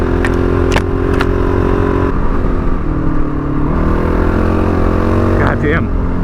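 A Honda CRF450L dual-sport motorcycle being ridden on a wet winter trail, its engine droning steadily and loud throughout, with a few throttle blips and shifts in pitch as it accelerates; a voice talks over part of it.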